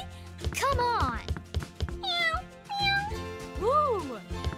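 A house cat meows several times, with rising and falling, drawn-out cries, fairly close and clear against a busy background.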